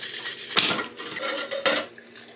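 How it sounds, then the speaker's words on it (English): A cocktail shaker is dry-shaken with whiskey sour ingredients and egg white or aquafaba, with no ice inside, making a steady rattling swish punctuated by two sharp knocks. "shake all the ingredients without ice to create a stable foam"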